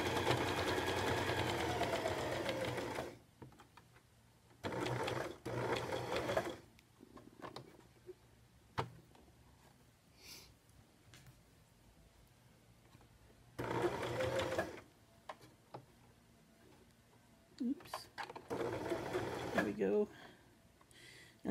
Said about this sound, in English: Sometimes when you get on curves, you need to lift your presser foot and pivot, but you got to make sure your needle's down in the fabric so it stays put.